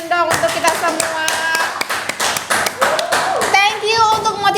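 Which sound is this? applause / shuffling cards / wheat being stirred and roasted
applause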